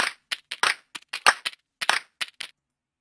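A sharp, dry clap loop plays back as a rhythmic pattern of a dozen crisp hits with short gaps, clean and isolated.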